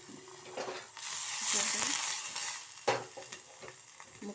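Coconut pieces sizzling in a pan while being stirred with a utensil, a soft hiss with intermittent scraping and clinks, close and moderately quiet.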